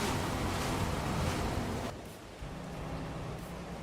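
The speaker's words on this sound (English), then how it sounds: "Oh no, it's raining." Rain falling in the Farming Simulator 22 video game, a loud, steady broadband hiss that drops abruptly to a softer rushing patter partway through, with no voices.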